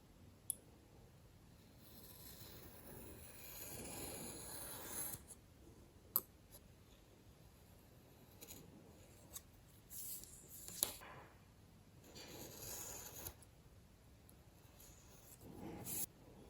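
A craft knife draws along a ruler to cut a part out of a 1/25 Renova Model paper kit of a KrAZ 255B truck, giving quiet scraping rasps broken by a few sharp little clicks, with no voices.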